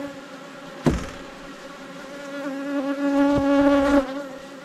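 Agitated honeybees buzz steadily at an apiary hive during end-of-season work, a dense, close, droning hum that swells louder toward the end, with a couple of sharp knocks.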